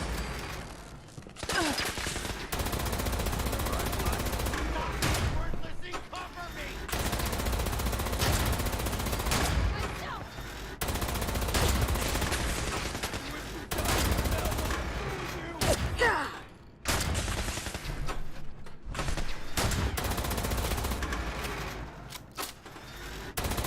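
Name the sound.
sniper rifle gunfire in the video game Fallout 76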